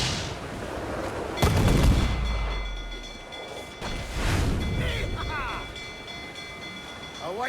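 Ship cannons boom in Assassin's Creed 4 Black Flag naval combat, a heavy close blast followed by another distant-sounding shot, with rumbling aftermath, a steady tone, and shouted crew voices in between.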